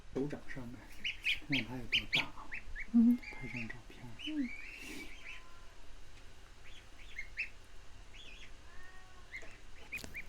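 Young goslings peep and call indoors during a cold, snowy spell, their high chirps coming in scattered bursts up close, thinning out toward the end as the room goes quieter.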